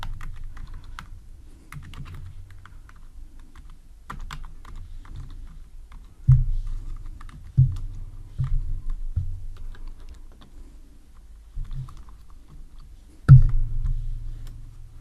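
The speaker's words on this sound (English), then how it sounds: "I'm gonna type here first the string for the text views." Soft, close keystrokes tap on a computer keyboard in irregular bursts with short pauses, a few heavier key presses standing out against a quiet room.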